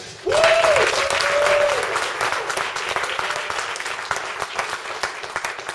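Audience at a hip hop event breaks into sustained applause that swells quickly and holds as a dense wash of clapping, with a brief cheer or whistle near the start.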